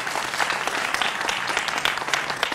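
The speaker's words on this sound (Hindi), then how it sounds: "तो जोरदार तालियां होनी चाहिए" A studio audience at a political discussion gives loud, continuous applause for the guests, including a well-known political analyst, with dense clapping throughout and no pause.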